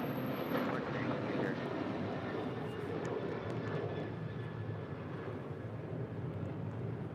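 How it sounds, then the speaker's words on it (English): An Alaska Airlines Boeing 737-900ER in oneworld livery departs LAX, its jet engines making a steady, moderately distant roar with a faint high whine, and no speech over it. "1418 departing to Guadalajara on a 737-900 ER in the One World livery"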